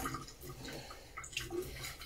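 Water is poured into a jar that holds plant cuttings for rooting. It makes a soft, steady trickle and splash, close by, with no voices.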